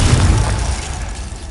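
A single Confringo fire-spell blast in the Hogwarts Legacy video game, a loud deep boom with a rumbling low-end tail fading over a second and a half.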